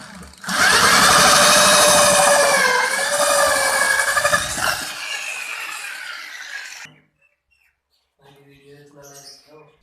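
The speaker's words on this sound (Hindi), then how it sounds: "ये देखें, ये हमारा कटर है, हिल्टर ड्रिल है।" A power drill fitted with a hole cutter bores through a ceiling to fit a light, a loud, close whining grind lasting several seconds before it stops, followed by brief faint speech.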